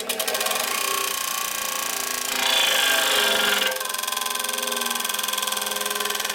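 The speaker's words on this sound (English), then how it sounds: "So now I'm going to go ahead and grind it." A grinder steadily cuts across the rocker arm of a 1950 Harley-Davidson panhead engine, a loud continuous high-pitched whine that rises briefly in pitch midway through, with no talking.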